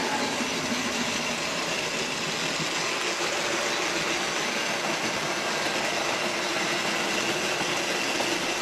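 A Hornby Dublo three-rail OO-gauge model train hauling coaches around a layout, heard as a steady close whirring and rumble with light clicking that continues evenly without pause and without voices.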